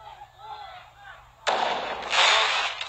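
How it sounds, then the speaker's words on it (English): Loud firework blasts and booming bangs erupt during a violent nighttime street protest in Minneapolis, with a sudden sharp burst followed by sustained crackling and rumbling, nearby and intense, with a chaotic crowd around. "The fireworks has gotten more intense, and the protesters are now using the fireworks as weapons."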